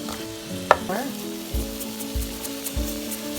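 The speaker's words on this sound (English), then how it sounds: "cook until the carrots and sayote are slightly tender" Carrots and sayote sautéing in a pan for vegan pansit puso, a close sizzle with a sharp utensil clink, then soft scraping stirs repeating every second or so over low hiss.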